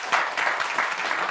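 An audience at an evening studio show applauds, a dense, steady round of clapping heard close and fairly loud throughout.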